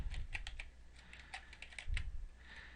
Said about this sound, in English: I'm going to type in a macro name